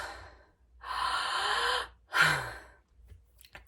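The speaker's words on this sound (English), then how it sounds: "Actively inhaling, passively exhaling." Active breathwork breathing in a morning energizing practice: one long, forceful breath drawn in through the mouth, then a second shorter rushing breath, close and clear with no talk.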